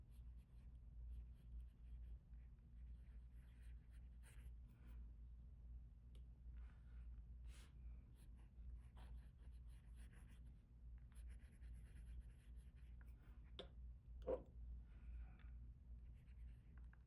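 A fountain pen writing a title on paper with gray ink, heard as very faint scratchy strokes over a low hum, with one sharper tap near the end.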